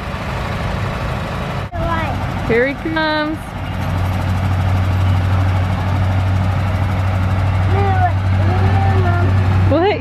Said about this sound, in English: Yeah, that tractor's on.